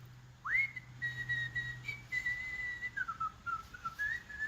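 A person whistles a slow, wandering tune alone while working, clear and close, with steady notes gliding between pitches over faint background hum.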